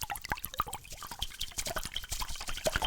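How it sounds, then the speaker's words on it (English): Close, crisp water drips falling in a quick, irregular patter, each drop a small wet plink, with no voices. "These are called water sounds."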